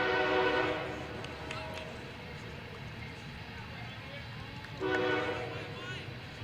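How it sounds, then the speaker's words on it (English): A train sounds its horn beside a varsity baseball park, two sustained blasts several seconds apart over a constant rumble of rail traffic, with a voice talking under it. "gotta love the train in the background"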